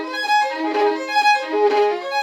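An orchestra string section sustains a continuous bowed chord, swelling gently in loudness with no pauses, close and fairly loud.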